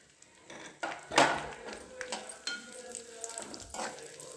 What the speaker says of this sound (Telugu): ఇలా గోల్డ్ కలర్లోకి వచ్చాక ఇందులోనే కొబ్బరి తురుము వేసుకోవాలి.